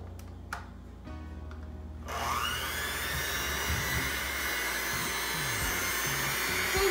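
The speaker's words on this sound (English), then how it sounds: "We're gonna mix it." An electric mixer whirs steadily through tres leches cake batter, starting abruptly after a couple of quiet clicks and then running loud and continuous for several seconds without talk.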